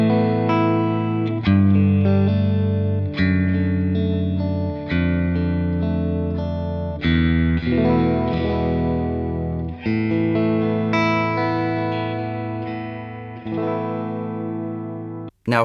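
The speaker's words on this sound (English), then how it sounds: "let's have a listen to the clean tone without the Clon engaged" Electric guitar through a clean, bland Fender-style tone with the Warm Audio Centavo Klon-type overdrive switched off: sustained chords and single notes ring out one after another, close and clear, each decaying before the next strum, with no voices.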